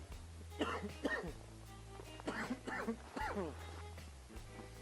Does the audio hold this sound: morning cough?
yes